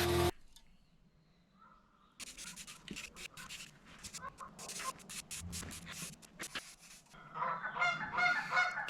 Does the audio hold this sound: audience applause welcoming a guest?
no